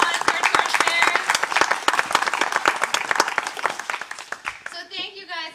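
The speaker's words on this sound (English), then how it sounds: "Can we give a nice big round of applause to our torchbearers?" An outdoor crowd at a Canada Games torch event claps for the torchbearers, bright irregular clapping for several seconds that fades before a voice starts speaking.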